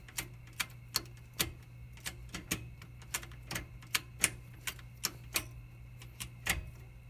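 The CravenSpeed short shifter in an ND Miata gives off crisp, solid clicks as it is worked through the gears, making a steady series of sharp ticks roughly every half second, close up and fairly quiet, with no voices.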